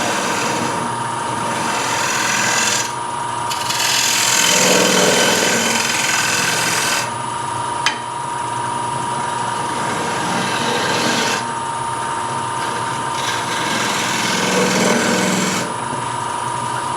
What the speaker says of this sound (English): And I'm literally scraping.